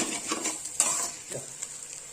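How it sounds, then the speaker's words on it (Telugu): Noodles tossed with onion and capsicum pieces in a hot pan, a soft sizzle under brisk stirring scrapes and a couple of utensil clinks, close and brief, with no talking. "ఈ నూడిల్స్ అంతా ఈ ఆనియన్స్, ఈ క్యాప్సికమ్ ముక్కలు ఇవన్నీ పట్టేటట్టు కలుపుకోవాలి బాగా"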